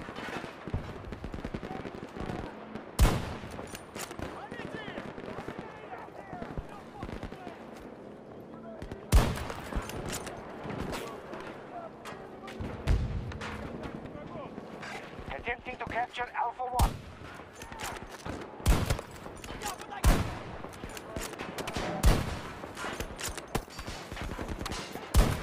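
Gunfire in Battlefield 2042, with repeated loud sharp shots and bursts, some heavy booming impacts, scattered across a dense battle din while someone talks over it.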